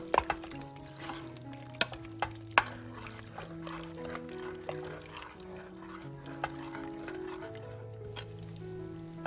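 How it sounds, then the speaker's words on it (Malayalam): Spoon stirs and scrapes beef in a pan, with a few sharp clinks against the metal, over quiet background music. "നല്ലതുപോലെ ഇളക്കുക."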